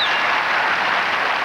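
A crowd in a Seattle arena applauds figure skaters at a professional championship, a dense, steady wash of clapping that fills the whole moment at full volume.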